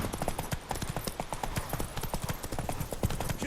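Rapid, rhythmic hoofbeats of a galloping horse in The Witcher 3: Wild Hunt pound continuously, close and steady, with a faint whinny mixed in.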